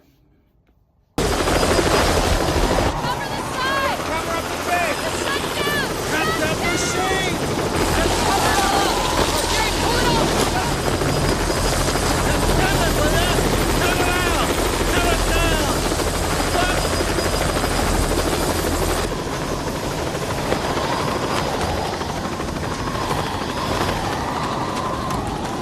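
A loud, steady helicopter rotor roar from a landed helicopter in Jurassic Park fills the whole stretch, constant and close, with faint voices mixed underneath.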